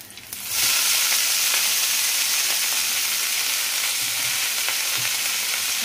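Leafy red greens sizzling in a hot pan on a home stove, a loud steady frying hiss that starts abruptly and runs continuously with faint stirring scrapes, no voices.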